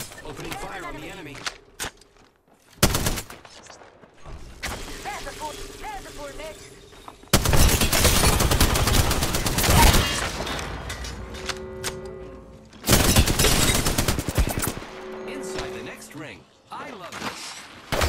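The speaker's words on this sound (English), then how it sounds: "They're shooting at me. Reloading. Opening fire on the enemy." Video game firefight with loud bursts of gunfire and heavy blasts coming in dense, separate volleys, mixed with game voice callouts and other game sounds.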